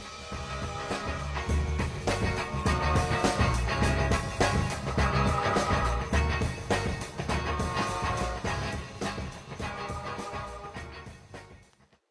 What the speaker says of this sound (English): He just took the beginning of that track, pitched it down a bit, and left it as is.